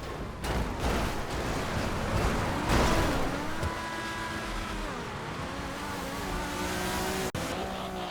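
A drag car in the FiveM racing video game drives with a loud, sustained engine drone that rises and falls in pitch through gear changes, with tyre noise and a sharp knock near the end.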